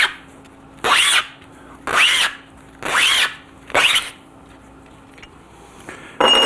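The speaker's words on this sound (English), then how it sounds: "you can use a belt splitter like this thing. It's got a razor blade built in." Four separate rasping, scraping strokes as a belt splitter with a built-in razor blade slices a 2-inch abrasive sanding belt down to 1-inch in a workshop, each pass about a second long with short pauses between, close and fairly loud.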